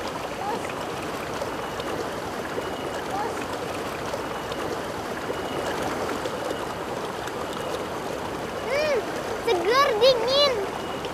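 Clear mountain river on Gunung Puntang near Bandung, the Sungai Cigar, rushing and splashing steadily up close, with children's voices chattering faintly over the water toward the end.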